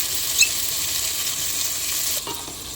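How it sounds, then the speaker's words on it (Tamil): Curry leaves and coriander frying in a pan with onion and tomato, a loud continuous sizzle with a few squeaky stirring scrapes, ending in a quieter stretch. "கருவேப்பிலை, கொத்தமல்லி போட்டு வதக்குறேங்க"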